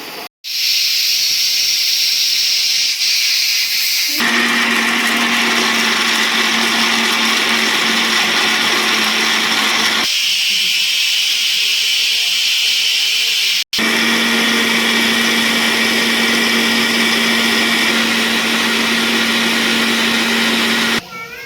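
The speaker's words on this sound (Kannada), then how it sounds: "ಇದೆಲ್ಲ ಫ್ರೈ ಆದಮೇಲೆ ಲಾಸ್ಟಲ್ಲಿ ನೆನೆಸ್ಕೊಂಡಿರೋಂಥ ಬಾದಾಮಿ ಗೋಡಂಬಿನ ಹಾಕ್ಕೊಂಡು ರುಬ್ಕೊಳ್ತೀರಿ" A kitchen mixer grinder grinds soaked almonds and cashews into a smooth paste, a loud whirring motor running in long bursts with two brief pauses and a final stop.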